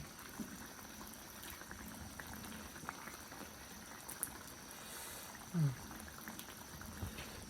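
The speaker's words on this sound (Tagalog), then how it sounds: "Kumukulo po." Catfish adobo in coconut milk simmers in a pot, a faint steady bubbling and low liquid churning close by, with a brief soft knock partway through.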